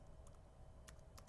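A few quick, quiet keystrokes tapped on a computer keyboard at a command line, with light clicks spaced over just over a second.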